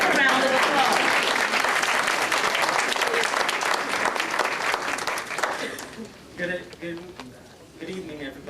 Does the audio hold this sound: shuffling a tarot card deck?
no